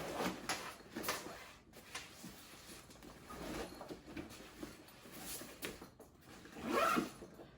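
Zipper on a compartment of an Aer Flight Pack 2 backpack, quiet close zipping and rustling of fabric with a few short pulls and handling sounds, no talk.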